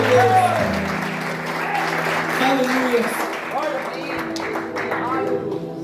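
A church congregation applauds steadily through a fairly loud wash of clapping, with voices and sung or spoken exclamations carrying over it.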